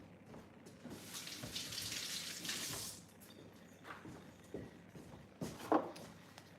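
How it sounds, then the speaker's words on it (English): A kitchen faucet runs for a few seconds as hands are rinsed, a broad steady wash of water that fades out, followed by small clatters and handling sounds nearby with no talking. "I'm gonna go rinse my hands really quick."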